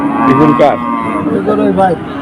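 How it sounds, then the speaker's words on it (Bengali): Cattle at a cattle market moo loudly and close by, several long, drawn-out calls overlapping one after another, with faint background noise and no talking. "বিভিন্ন ধরনের গরু এখানে"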